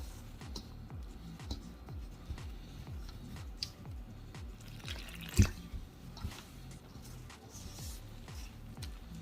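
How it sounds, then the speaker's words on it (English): Flour and water being kneaded by hand into dumpling dough for Jamaican stew peas, giving soft repeated squishing and sticky slapping sounds in a steady rhythm, close and fairly quiet, with one sharper knock midway. "And with elbow grease, we're gonna nail the flour into a dough."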